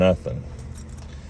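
Car key for a 2022 Nissan Frontier inserted during key testing, a brief metallic jingle of keys right after a short spoken word, then quiet.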